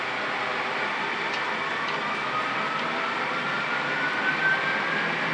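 Jet engines of a Boeing 737 flight simulator spool up for takeoff, giving a steady, even roar with a faint whine throughout and no talk over it.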